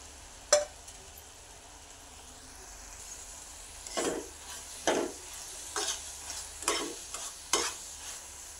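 A spoon stirs melted jaggery and fresh coconut in a pan, with soft scraping strokes and a low sizzle coming in repeated bursts, close and fairly quiet.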